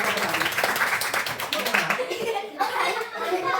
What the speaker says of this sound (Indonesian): Oke, semuanya sudah sama, tepuk tangan.